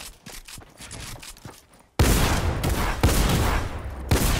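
Gunfire from the video game Fortnite, a few muffled shots followed by a sudden loud burst of rapid firing with sharp individual reports close up.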